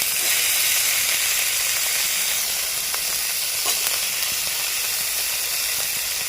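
Chopped carrot and mixed vegetables stir-frying for chicken fried rice, giving a steady loud hiss and sizzle throughout with a few faint clicks of a utensil, close by and without voices.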